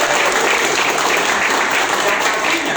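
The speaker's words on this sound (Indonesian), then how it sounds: "Tepuk tangan." Audience applause at an Indonesian community meetup, a dense, steady wash of many hands clapping close and loud for the full stretch with no voices over it.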